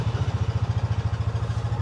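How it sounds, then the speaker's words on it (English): A Hisun UTV engine runs with a steady, throaty low-pitched pulse, a close and fairly loud idle-like rhythm with no talk over it. "Hisuns always have a really nice engine note. Like, they sound great, very confident, starts confident"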